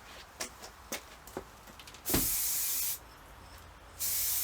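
Aerosol spray paint hisses onto motorcycle forks in two short bursts, the first nearly a second long and the second shorter. Quiet clicks and light handling noises come before the spraying, and no one speaks.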